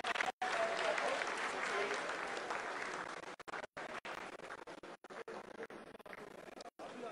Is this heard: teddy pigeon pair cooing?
no